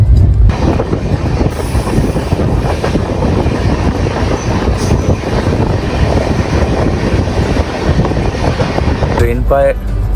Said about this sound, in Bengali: ট্রেন এখন প্রায় ঝাড়গ্রাম ঢুকছে।